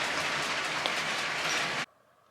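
LEGO City toy trains run on a plastic track, giving a steady, close rattling whir that holds evenly and then stops abruptly, leaving near silence.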